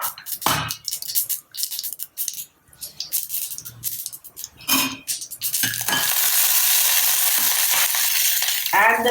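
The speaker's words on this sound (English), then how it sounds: "I have taken a teaspoon of oil in a pan and season it or temper it with mustard seeds." Mustard seeds popping and spluttering in a teaspoon of hot oil in a pan, loud irregular crackles and bursts that build into a dense, continuous sizzle toward the end.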